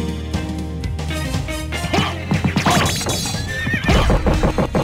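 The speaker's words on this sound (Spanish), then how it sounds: "Caballo de mierda, tío." Horse neighing in the Castlevania: Symphony of the Night video game, a loud whinny rising over game music and effects, with another neigh following amid busy in-game sounds.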